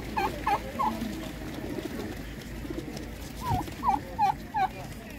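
Pigeons in a fancier's loft give repeated soft rolling coos in short phrases, fairly close, over low background noise.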